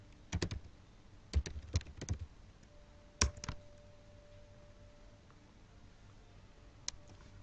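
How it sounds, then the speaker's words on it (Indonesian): Computer keyboard keys pressed while editing a config file in a Debian 8 terminal, a few quick clustered clicks followed by sparse single taps and pauses, close and quiet. "kita save dengan menekan Ctrl O, Enter Ctrl X"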